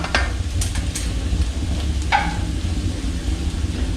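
Spoon scraping and stirring masala in a pan for Kerala-style country chicken curry, a few sharp clinks and scrapes over a low steady background hum.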